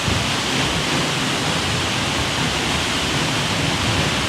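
Waterfall in Mpumalanga roaring as a steady, dense broadband rush of falling water, loud and close, continuous without a break and with no voices.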